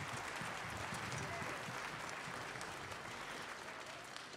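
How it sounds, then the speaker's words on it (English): Applause from an audience at a community music extravaganza, a dense, faint, continuous wash of clapping, with a low murmur of voices mixed in. "So let's have a round of applause."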